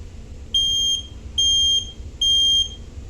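A house smoke alarm under test gives three loud, piercing electronic beeps, each about half a second long and evenly spaced, heard close up against a faint background hum.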